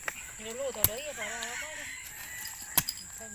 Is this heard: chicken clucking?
yes